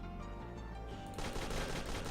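Rapid automatic gunfire rattles in a Unity-built shooter game driven by the Eliot AI framework, a dense continuous burst that grows louder partway through.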